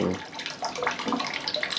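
Broth is poured over spinach in a cooking pot while making chicken tinola, a traditional Philippine dish. The liquid splashes and trickles in a soft, continuous stream, heard faintly and close by.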